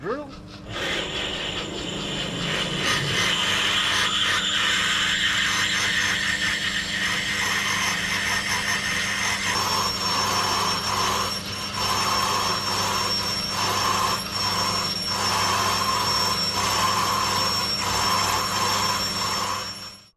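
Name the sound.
big drill on a lathe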